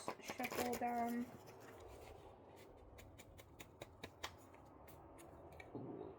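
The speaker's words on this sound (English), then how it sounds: "Let's shuffle down." A homemade deck of paper cards is shuffled by hand, producing soft, quiet riffling and scattered light clicks, with a brief voice heard at the very start.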